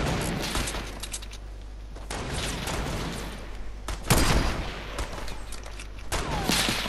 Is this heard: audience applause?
no